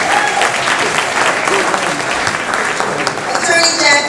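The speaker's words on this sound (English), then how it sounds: "let's give Kojo a round of applause" Dense applause from a crowd, steady and loud throughout, with scattered voices mixed into the clapping.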